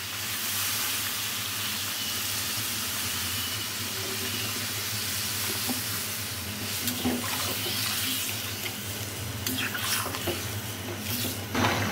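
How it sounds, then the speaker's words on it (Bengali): Water pours steadily into a cooking pot on the stove for a fish and vegetable dish, a continuous rushing splash close by, with light clinks near the end. "দিয়ে দেবো জল।"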